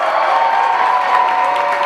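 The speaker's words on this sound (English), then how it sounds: "Her family gives her a standing ovation." A basketball crowd gives a standing ovation for a player's career scoring record, a steady wash of applause and cheering that stays full and even for the whole moment without letting up.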